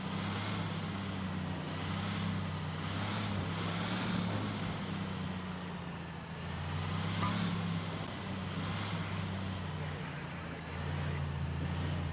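A video-game armored truck drives with a steady low engine drone and shifting road rumble throughout, moderately quiet and without talk.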